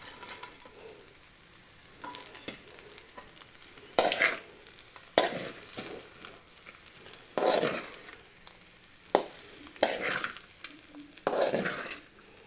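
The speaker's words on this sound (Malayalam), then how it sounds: "അതും കൂടി ഇട്ടോട്ട് നന്നായിട്ടൊന്ന് മിക്സ് ചെയ്യണം" A spoon stirs and scrapes through tomato rice with fried cashews and raisins in a pan, with soft clinks and scraping bursts over a faint background sizzle, no talking.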